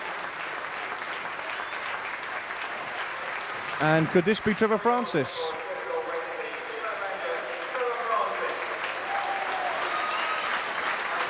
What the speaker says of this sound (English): Applause from the Charlton fans.